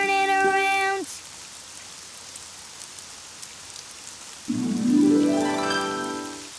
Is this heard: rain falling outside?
yes